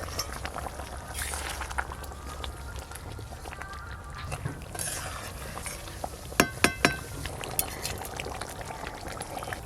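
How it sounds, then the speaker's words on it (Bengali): Gravy bubbling in a pan with fried pangas fish and capsicum, a steady low simmer throughout with a brief cluster of sharp clicks and knocks near the end. "খুব ভালো করে গ্রেভি ফুটে গেছে।"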